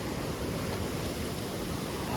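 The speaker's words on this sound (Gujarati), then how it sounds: "મોટું મોજું આવે છે" Sea waves break on the shore near a seaside temple in the evening, a steady, dense wash of surf and wind roar with no talk.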